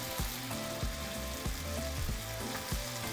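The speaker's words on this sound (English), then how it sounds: "we're going to mix everything together and allow our potatoes to cook for 7 minutes" Potatoes seasoned with garlic salt and black pepper sizzle in a pan, with a continuous close frying hiss broken by regular stirring scrapes every half second or so.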